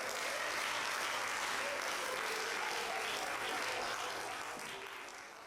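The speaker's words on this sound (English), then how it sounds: "Let's have a round of applause for our experts on stop signs." Theatre audience at an improv comedy show applauds the performers, a full, even roar of clapping that holds steady and slowly eases off.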